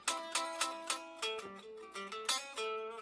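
Quiet guitar playing fast Texas-style blues double stops in A, crisp plucked two-note figures in a quick bouncing rhythm, close up and alone.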